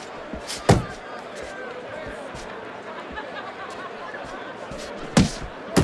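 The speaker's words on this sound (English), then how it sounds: "Thunder's nailed by a hook." Punches landing in the boxing video game Fight Night Champion: two sharp, loud thuds a few seconds apart over a steady crowd murmur, with a faint third hit at the end.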